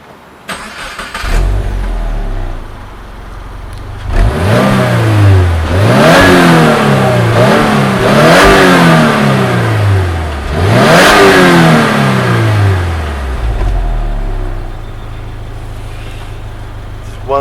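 A new Subaru WRX, all-wheel drive and lacking the old boxer burble, revs hard and accelerates. Several loud rising engine sweeps climb and drop back close by, with a steady idle-like drone between pulls.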